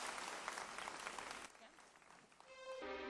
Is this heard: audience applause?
yes